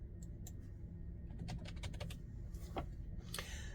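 Quiet typing on a computer keyboard, a short run of soft, irregular key clicks, close by, with a low background hum and no voices.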